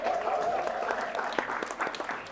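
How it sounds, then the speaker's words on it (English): Audience applause at a live gaming event for streamers and game developers: sustained, dense clapping from a crowd, steady and fairly loud throughout, with a brief whistle-like tone near the start. "Big round of applause for Dex!"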